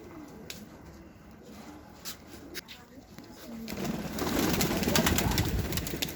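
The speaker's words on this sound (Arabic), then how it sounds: "هاي الطيور" Pigeons coo softly at close range, with low murmuring calls that grow denser and louder toward the end; a person talks faintly in the background.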